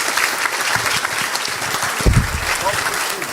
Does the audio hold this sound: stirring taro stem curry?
no